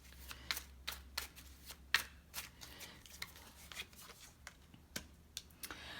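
Tarot cards shuffled and drawn by hand, a run of crisp riffling flicks and soft slaps with short pauses between, close and fairly quiet, with no talking.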